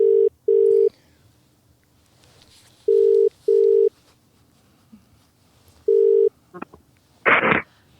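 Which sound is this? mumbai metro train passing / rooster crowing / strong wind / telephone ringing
telephone ringing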